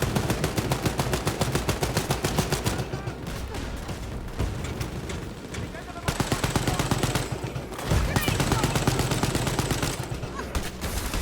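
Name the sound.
gunfire from the video game Wolfenstein: Youngblood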